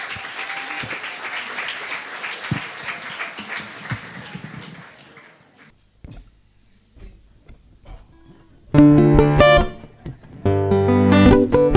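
Concert audience applause at a bar venue, a crowd clapping for a few seconds before dying out into near silence, followed by loud bursts of band music.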